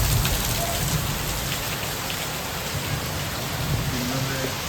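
Heavy rain pours down steadily during a thunderstorm in India, a dense, continuous hiss of drops drumming on surfaces close by, with no pauses and no voices.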